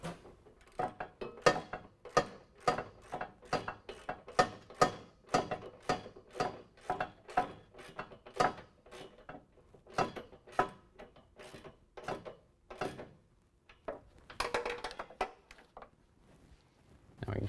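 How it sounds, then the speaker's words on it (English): A 13mm wrench ratchets pinch weld bolts tight while nerf bars go onto a 2017 Chevy Duramax truck, giving long runs of sharp, close metallic clicks in a steady rhythm with brief pauses between bursts. "Now we're going to use a 13mm to tighten down all of our pinch weld bolts"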